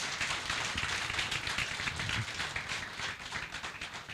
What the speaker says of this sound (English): can we have a round of applause for this wonderful event?